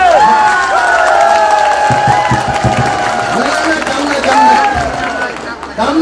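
A crowd claps and cheers loudly and without a break at an outdoor political rally in Krishnai, Goalpara district, with shouts rising over the dense applause.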